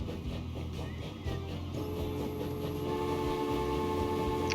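A train pulls out in the Transport Fever 2 game, a steady rumbling engine drone with low hum and a faint horn-like tone, loud and continuous with game music or ambience layered over it.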